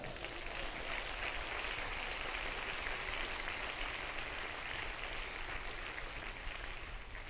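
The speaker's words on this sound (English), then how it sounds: "Would you clap your hands to the Lord?" A church congregation clapping hands during a sermon, a dense continuous wash of applause heard faintly and at a distance, steady throughout with no voices standing out.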